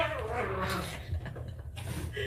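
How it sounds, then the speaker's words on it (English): House cats fighting indoors, with a couple of yowling, caterwauling cries over a muddy, low rumbling background, fairly faint and heard at some distance. "My cats are fighting."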